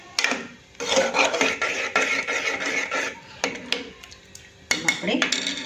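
A spoon scraping and stirring cooked dal in a metal pot, busy clattering and rubbing strokes up close with short pauses between bursts.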